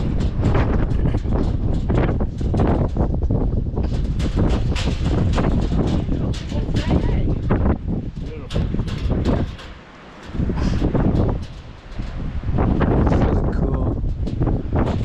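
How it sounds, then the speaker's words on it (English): Loud, continuous wind buffeting a microphone, roaring and gusting for the whole stretch with only a couple of brief lulls. "It's really windy up here."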